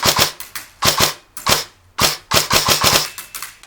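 An airsoft gun fires a rapid series of sharp, close cracks at an 80-foot range test, about a dozen shots in quick uneven bursts with brief gaps, each shot snapping loudly then fading.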